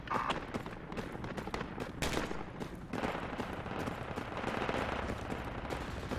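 Enemy soldiers firing in the military shooter game Project Reality, dense bursts of automatic gunfire with overlapping cracks and rapid volleys, continuous and fairly loud with no talking.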